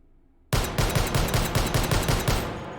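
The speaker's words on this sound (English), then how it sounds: "This is the 10-round magazine, firing as fast as I can." A Desert Eagle .50 AE pistol with a 10-round magazine, fired as fast as possible in the VR game H3VR: around ten sharp, booming shots in a quick, even rhythm, close and loud, with reverb lingering after the last one.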